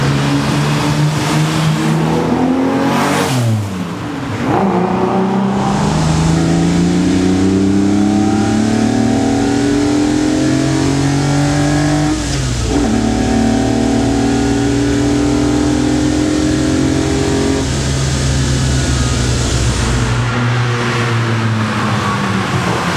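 Ferrari 250 GT Lusso engine revving hard while driving, loud and close, rising through the gears with sweeping pitch climbs, two sharp shifts with brief dips, then sustained high revs.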